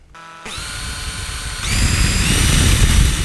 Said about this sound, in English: Now on the center of that mark, I need to drill a hole.